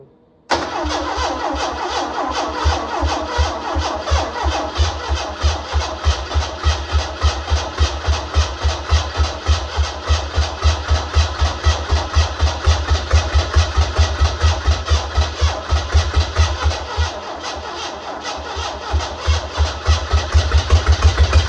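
A 1982 Mustang engine cranks and catches almost at once, then runs loud and close for the rest of the clip with a steady, pulsing idle and a few small revs, with no talk.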